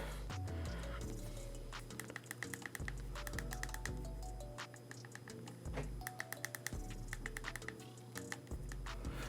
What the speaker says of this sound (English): very satisfying clicky feeling when you press down on the volume rocker and the power button itself